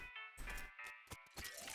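A human skeleton enemy in the game West of Loathing hisses and crackles with blue electricity, a rattling, buzzing burst of stuttering pulses and noisy bursts, loud and close, with no talk.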